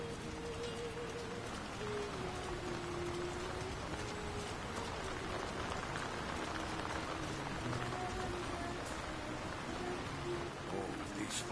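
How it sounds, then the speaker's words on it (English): Constant rain falling over a town in the video game War in the North, a dense even hiss throughout with faint tonal sounds and murmurs in the background. "Who could live in a town where it's always raining?"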